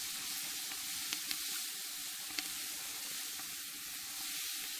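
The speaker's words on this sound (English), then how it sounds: "put some onions in the pot. And we're going to fry it a little bit" Onions fry in butter in a number six cast-iron potjie pot, giving a soft, steady hiss with a few faint pops and ticks, fairly quiet and without talk.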